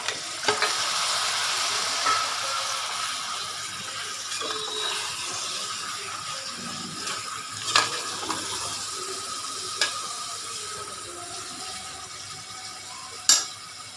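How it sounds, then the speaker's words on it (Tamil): Mutton fries in a spice tempering inside a pressure cooker, giving a continuous moderate sizzle with occasional sharp metallic stirring clicks and scrapes, no voices. "மட்டன் குக்கரில் போட்டாச்சு, அந்த தாளிப்பில் போட்டாச்சு"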